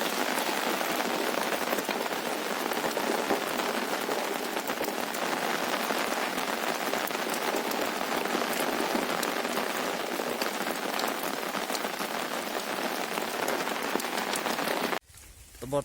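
Heavy rain falls steadily at night in a village, a dense, loud, continuous hiss of drops on surfaces that cuts off abruptly near the end.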